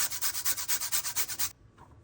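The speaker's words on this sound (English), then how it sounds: "I'm gonna grate some nutmeg" Nutmeg rubbed against a grater in about a dozen quick, even rasping strokes up close, then abruptly stopping into near silence.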